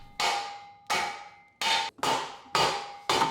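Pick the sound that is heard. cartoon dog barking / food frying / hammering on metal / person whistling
hammering on metal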